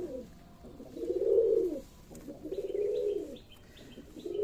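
Pigeons of Rajshahi Giribaj, racer and black homer breeds coo in three long, low, throaty phrases, steady and fairly close, with faint high chirps from other birds in the background.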